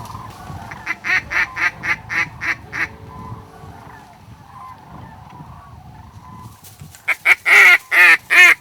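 Real ducks call over a decoy spread during a hunt, a rhythmic series of loud quacks followed by a quieter gap with faint low murmurs, then a burst of close, harsh honking quacks.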